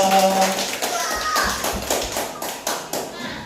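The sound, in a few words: clapping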